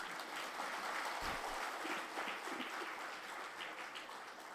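Audience members at a Tamil comedy pattimandram debate applaud a speaker, soft, continuous clapping from a crowd heard at a distance, steady and low in level throughout.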